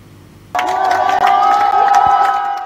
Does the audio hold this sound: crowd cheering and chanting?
yes